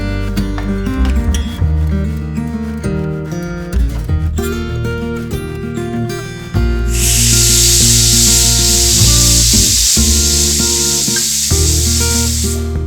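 A pressure cooker of Kerala-style green gram porridge releasing steam, a loud, continuous broadband hiss that bursts in partway through and holds to the end, over background music.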